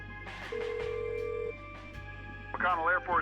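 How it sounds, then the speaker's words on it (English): In the video game Kathy Rain, a telephone dial tone holds steady for a second, followed by a ringing tone, with a voice talking over the end. "use the phone to call McConnell Air Force Base again"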